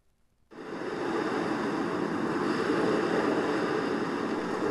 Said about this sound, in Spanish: Spotify saca esta lista de reproducción con el ruido del mar